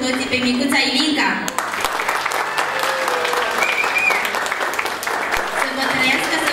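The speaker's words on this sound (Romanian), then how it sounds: "În ultimul rând să aplaudăm cu toții pe micuța Ilinca." Christening guests clap together for little Ilinca, sustained applause from a roomful of people with some talk and a voice mixed in under the clapping.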